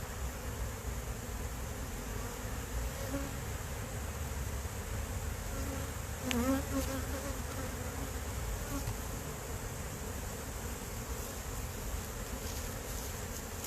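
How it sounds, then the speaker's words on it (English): Honey bees in a slow-to-expand hive drone in a steady, dense buzz that holds throughout, close and even with no talking. "this is just being a really bratty hive, and they're just taking their sweet time about expanding"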